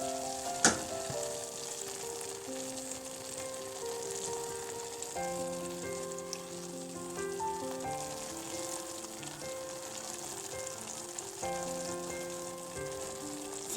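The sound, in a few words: chicken gravy sizzling in pan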